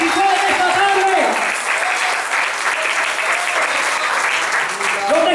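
A church congregation at a special Israel service breaks into loud, sustained applause, the dense clapping filling the room while a voice carries over it at the start and again at the end.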